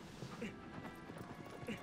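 Horse hooves clip-clop in the Shadow of the Colossus video game, a steady rhythmic trot under game music and ambience while someone talks over it.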